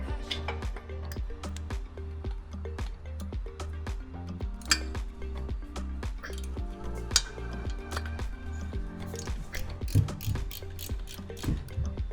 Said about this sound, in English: grab your 17 millimeter socket and go ahead and break the caliper bracket bolts on the back side that hold it to the spindle